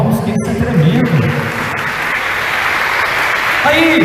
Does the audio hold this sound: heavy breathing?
no